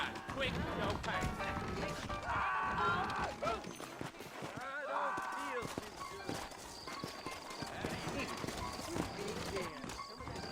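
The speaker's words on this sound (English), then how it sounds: "got the horses saddled up and ready out front." Horses clip-clop in the Red Dead Redemption video game, their hooves and a faint whinny buried under steady talk and background game music, soft and continuous across the scene.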